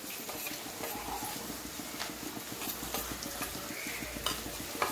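Chhana and potatoes fry in a pan, giving a steady soft sizzle with repeated scraping and clinking of a spoon stirring against the metal, fairly quiet and with no voices.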